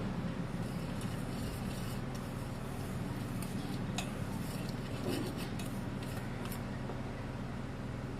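Homemade cake batter is mixed in a bowl with a utensil, giving scattered light clinks and scrapes over a steady low background hum, close but fairly quiet.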